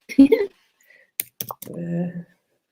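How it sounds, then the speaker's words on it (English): A short burst of keyboard clicks between bits of talk, a voice speaking before and after the quick tapping. "Oh, she's typing it up."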